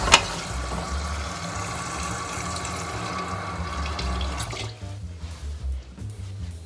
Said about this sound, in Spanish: Le ponemos agua